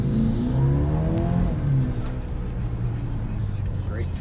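A 2020 Mercedes-AMG CLA 35 with its small engine pulls hard while driving at night with the sunroof open, giving a loud, steady engine drone with rising and sweeping tones heard from inside the cabin.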